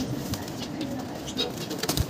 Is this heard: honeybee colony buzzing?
no